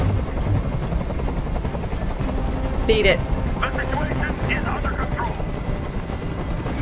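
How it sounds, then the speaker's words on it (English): Steady helicopter rotor drone hums throughout a tense hostage standoff scene in the video game Detroit: Become Human, with raised voices shouting over it. "I can't stand that noise anymore! Tell that helicopter to get out of here!"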